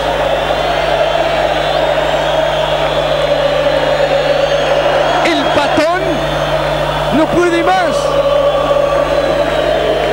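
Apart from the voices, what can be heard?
football fans of Rosario Central shouting in stadium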